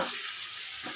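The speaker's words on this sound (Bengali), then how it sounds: "প্রথমে আমি পেঁয়াজটাকে ভেজে আমি বেরেস্তা" Sliced onions frying in hot oil to make birista for a fish kalia, a steady soft sizzle filling the short moment with no voices.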